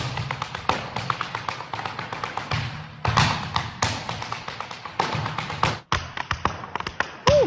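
Heavy dance shoes tap out quick, rapid footwork on a hard floor, a dense run of crisp clicks and thuds with a few louder stomps, moderately close, backed by faint background noise.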